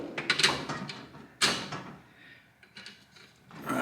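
A drawer on a US General Master Tech tool cart slides out on its runners, with a sharp clack near the middle and softer rolling, scraping noises before and after, close up in a quiet garage.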